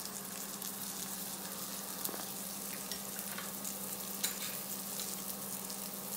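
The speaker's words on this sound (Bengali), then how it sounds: "আরো 1 মিনিটের জন্য আমি এটাকে কুক করে নেব।" Gilafi kabab cooks in a pan with a steady, quiet frying sizzle that hisses evenly throughout, broken by a few faint pops and crackles, with no talking.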